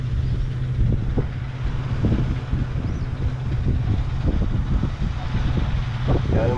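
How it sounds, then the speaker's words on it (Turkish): Strong, steady wind roars and buffets the microphone, a continuous low rumble with gusty thumps throughout. "sert bir rüzgar çıktı."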